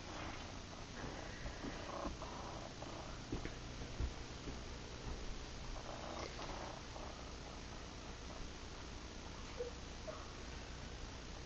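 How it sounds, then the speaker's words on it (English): A cat purrs softly and steadily up close, a low continuous rumble against quiet room noise. "Yeah, that's the kitty cat."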